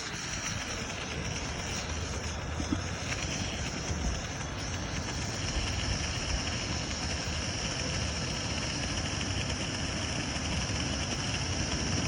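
A Coleman Dual Fuel 533 camp stove burning while its gas generator heats, giving a steady, even roar that holds at constant strength without pause, close by.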